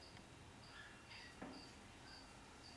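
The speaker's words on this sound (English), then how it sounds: "That's a cricket." Faint, steady cricket chirping repeats in short bursts in a quiet indoor setting near a pet ornate box turtle, with a soft click partway through.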